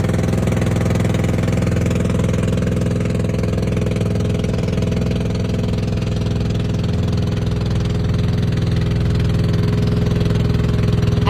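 A motor boat's engine runs steadily throughout a boat ride near mountains in Bicol, a loud, constant low drone with an even throb and no change in pace, close by and without voices.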